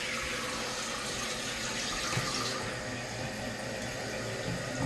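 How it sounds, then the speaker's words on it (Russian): Water rushes steadily into a toilet cistern through a newly replaced fill valve. The flow is close and continuous, with a soft, constant hiss throughout. "Пошла водичка."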